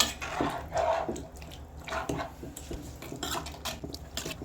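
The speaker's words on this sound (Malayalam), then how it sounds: "നല്ല പോലെ ചിക്കനും നമ്മുടെ ഗ്രേവിയും കൂടി ഇളക്കി യോജിപ്പിച്ചെടുക്കണം" Chicken curry with gravy stirred in a metal pot, with soft scraping and clinking of a spoon against the pot, fairly quiet and continuous.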